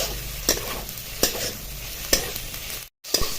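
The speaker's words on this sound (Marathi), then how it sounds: "एक चार ते पाच पर मिनटं परतवल्यानंतर ना आपले हे मसाल्याचे जे इन्ग्रेडियंट्स आहेत ते परतून झाले" Dry spices roasting in a pan for bazaar amti masala, a close, continuous crackling sizzle with three sharp scraping strokes of a spatula at even intervals and a momentary dropout near the end.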